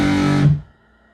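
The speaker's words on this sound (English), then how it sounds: "Here's what distortion sounds like." A single distorted electric guitar chord rings out loud and gritty, then cuts off abruptly into near silence.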